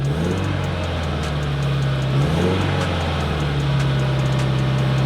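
A 2015-or-later Subaru WRX engine fitted with a new GrimmSpeed turbo inlet runs steadily at idle with a low drone and intake hiss, briefly dipping and rising in pitch midway, up close.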